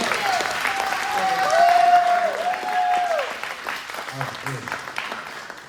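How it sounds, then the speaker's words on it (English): A graduation crowd gives a round of applause for the photographers, clapping at moderate loudness while a sustained tonal sound hangs over it before the clapping thins out. "Round of applause."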